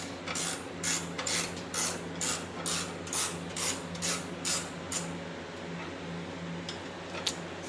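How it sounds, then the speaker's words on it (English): Ratchet wrench tightening a fastener during LX25 assembly: a rapid run of evenly spaced mechanical clicking bursts up close, pausing near the end, over a constant background hum. "The wrench works pretty good, or ratchet"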